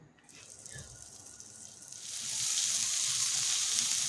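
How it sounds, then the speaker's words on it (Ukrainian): A burger patty lands in a hot frying pan and starts sizzling, the hiss building after a couple of seconds into a steady, loud frying sound. "А потім коклетка відправляється на сковорідку."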